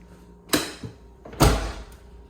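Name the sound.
Dodge Daytona Turbo Z car door opening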